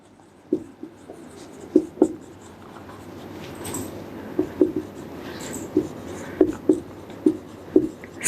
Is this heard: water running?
no